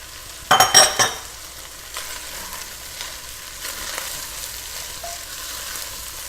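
Carrots, onions and celery sizzle in a soup pot, opening with a few loud scraping stirs close by, then settling into a soft steady frying hiss.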